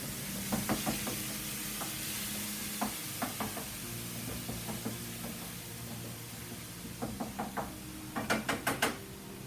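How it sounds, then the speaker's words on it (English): Bacon, onions and a little cream sear in a pan for minced paua, a soft steady sizzle broken by frequent sharp knocks and scrapes of a utensil, clustered near the end. "here goes the bacon and the onions and a slight little bit of cream that's starting to warm up"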